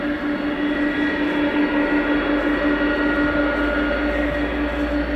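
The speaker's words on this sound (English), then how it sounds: "Powered by two Pratt & Whitney PW4062s, and they are massive" A large aircraft with two Pratt & Whitney PW4062 turbofans, arriving at RAF Fairford, gives a loud, steady engine drone with a sustained whine, continuous and fairly close, with no voices.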